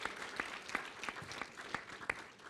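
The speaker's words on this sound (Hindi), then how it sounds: "जोरदार तालियों के साथ स्वागत कीजिए नेहा धूपिया जी का।" Audience applause welcoming actress Neha Dhupia as a guest on a Max Life India Protection Quotient show, a moderate crowd clapping steadily at some distance, with sharper individual claps punctuating the wash.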